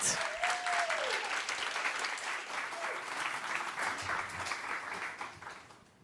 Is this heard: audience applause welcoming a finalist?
yes